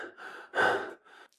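A voice imitates panicked mouth breathing, a few quick harsh gasping breaths in and out, close and fairly loud, with a stronger ragged gasp in the middle.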